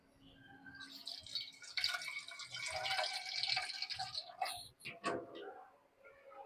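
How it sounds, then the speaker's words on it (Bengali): Water poured into a simmering bitter gourd and prawn curry, a close splashing gush rising and falling over several seconds, ending with a few clinks and drips. "আর একটু পানি দিচ্ছি ভাই বোনেরা।"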